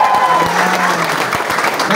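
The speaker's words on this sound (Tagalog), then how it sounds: "Yung palakpak na." Seminar audience clapping on cue, a scattering of claps and crowd noise beneath a speaking voice, fairly loud and close.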